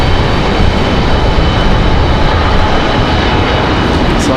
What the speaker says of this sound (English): We've got that CRJ on the move.